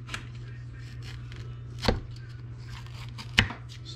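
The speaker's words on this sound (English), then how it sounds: "So, pepper, slice off the top. And I like to slice down the side." A knife slicing a jalapeno pepper on a cutting board, two sharp cuts landing about a second and a half apart over a low steady hum, close and distinct.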